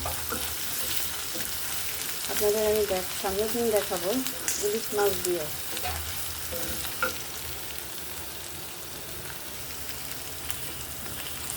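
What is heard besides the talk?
frying onions in oil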